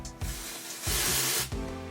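Two short bursts of dry shampoo aerosol sprayed into hair close by, the second longer and steadier, separated by a brief pause.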